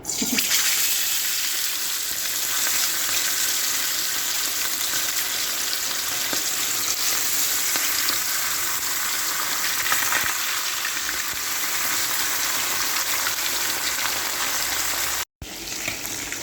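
Fish frying in hot oil in a pan, a dense steady crackling sizzle that fills the scene at close range and continues without pause, with a brief dropout near the end and no talking.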